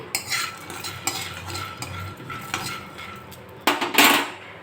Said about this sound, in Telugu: ఒక కళాయి అయితే పెట్టుకున్నాం అండి ఇందులో కొద్దిగా పల్లీలు వేసుకుని ఇవి వేయించుకోవాలి